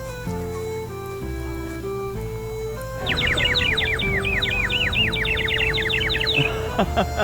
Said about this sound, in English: I love this bird whistle.